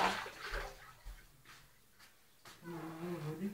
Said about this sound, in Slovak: pleská, už to pleská.